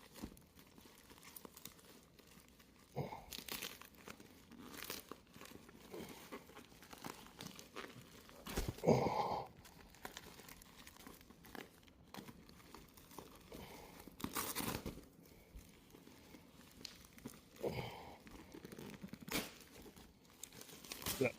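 Taped cardboard packaging holding a Tesla Model 3 or Model Y front windshield sunshade is torn open by hand: intermittent crinkling, ripping tape and crunching bursts, close and fairly quiet, with occasional soft muttering.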